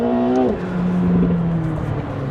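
A McLaren 750S sports car accelerates hard, its engine note rising steeply and then dropping into a lower, sustained roar as it pulls away. The sound is loud and close, with no voices.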